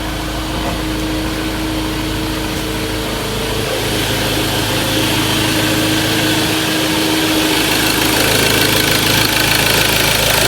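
The engine of a 2012 Ford Ranger runs at a steady idle after its intake manifold and EGR were cleaned and the camshaft sensor was replaced. The rumble is loud and close, with a faint rise near the end and no talking.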